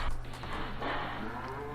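Cattle in the video game Farming Simulator 15 moo in a low, drawn-out bellow, fairly quiet and alone, with soft background noise.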